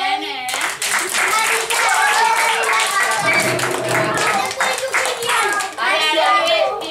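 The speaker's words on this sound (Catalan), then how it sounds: "Ara ho guanyat un aplaudiment" Close, lively clapping from a small audience after a children's storytelling session, sustained for several seconds with children's voices and chatter mixed throughout.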